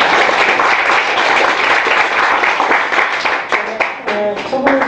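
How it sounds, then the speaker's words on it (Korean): Audience applause for a presenter at a lecture gathering, a dense, steady clapping wash that thins toward the end as voices begin talking over it. "저 박수 한번 주세요."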